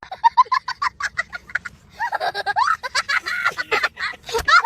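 A cartoon duck in an animated kids' comedy quacks and honks in a rapid, loud series of nasal calls, with busier overlapping squawks in the second half; no speech is heard.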